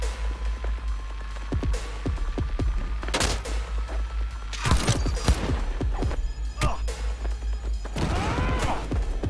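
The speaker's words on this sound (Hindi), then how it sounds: "ये वाली ले लेते गन, ठीक है. Assault rifle." Assault rifle gunfire in the video game Cyberpunk 2077 rings out in loud bursts of rapid shots and sharp impacts, separated by brief gaps over a steady low game hum.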